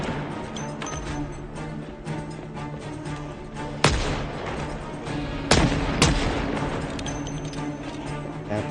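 Gunfire in Project Zomboid, a zombie survival video game, with loud sharp shots cracking out over a steady droning background, a few isolated reports and short bursts spaced several seconds apart.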